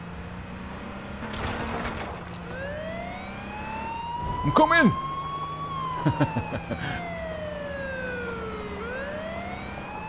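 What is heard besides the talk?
police car siren in video game H1Z1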